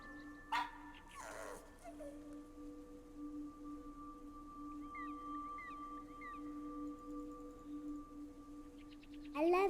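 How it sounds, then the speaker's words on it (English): A dog in the video game That Dragon, Cancer gives a short yip and bark, then a drawn-out whimpering whine, over a steady tonal game soundtrack, with a brief bark again at the end. "I always wanted a dog, and now I got one."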